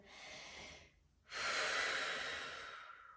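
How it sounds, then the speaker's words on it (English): A deep breath taken during a yoga flow, heard close and alone: a long inhale, a brief pause, then a stronger, longer airy exhale that slowly fades. "Deep breath here."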